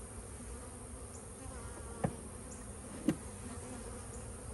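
Honeybees drone in a steady, faint buzz around a nuc hive sitting in the shade outdoors, with two brief louder bumps breaking the continuous hum.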